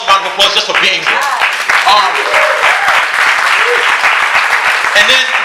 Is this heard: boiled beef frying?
no